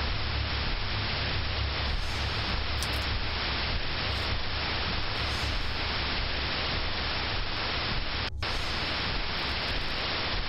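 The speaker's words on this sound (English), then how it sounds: "Television screen is filled with white noise once again." Steady, loud television white-noise static from the survival horror video game Fear & Hunger 2: Termina, a continuous broadband hiss filling the whole clip with no voices.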